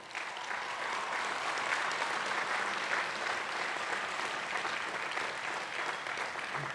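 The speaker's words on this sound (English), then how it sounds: "Please give them a round of applause." Applause at a university commencement ceremony for graduates' families and friends, a dense, sustained crowd clapping from a large audience, even and unbroken.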